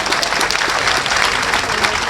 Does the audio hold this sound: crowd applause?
yes